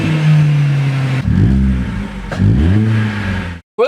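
Vauxhall Corsa with a new straight pipe exhaust, revved hard twice from a droning idle, each blip rising and falling in a raw, loud bark; heard close up with no talk.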